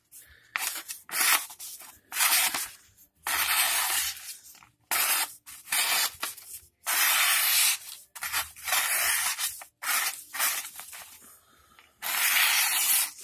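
A Kershaw 6055 CQC 4KXL knife blade with a slightly dull edge slices through paper in repeated loud, rasping hissy strokes, each lasting about a second with short pauses between, close up and without talking.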